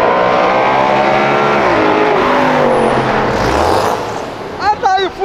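Off-road Porsche engine roaring hard at close range, a dense loud drone with rising revs before fading, then excited shouting voices at the end.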